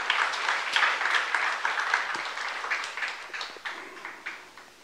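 A church congregation at a youth worship service claps together, lively and fairly close, with distinct hand strikes and bursts that gradually thin and loosen toward the end.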